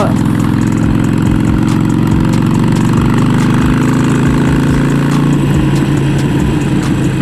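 A Harley-Davidson motorcycle engine runs loud and close throughout, a deep rumbling idle with irregular pops of backfire scattered through it and no talking.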